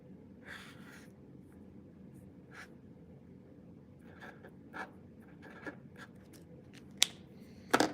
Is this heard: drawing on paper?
yes